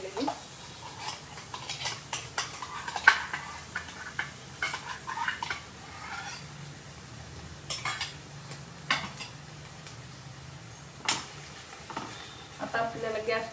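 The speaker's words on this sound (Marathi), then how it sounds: "आपण यामध्ये मिक्सरला लावलेला बारीक केलेला टोमॅटो घालूया," Tomato paste for pizza sauce sizzles softly in a pan while a spoon stirs and clinks against the metal in irregular bursts, fairly quiet overall.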